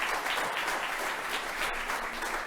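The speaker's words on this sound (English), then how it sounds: "let's give a big hand of applause to the Foreign Minister of Denmark, Lars Løkke Rasmussen." Audience applause at a conference session for the Foreign Minister of Denmark, steady dense clapping from a full hall sustained throughout without talk.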